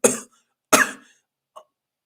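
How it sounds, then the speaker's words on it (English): Three bursts of a person's coughing: two harsh, fairly loud coughs close together, then a short faint one after a pause, with no talk in between. "I'm like coughing out my last words"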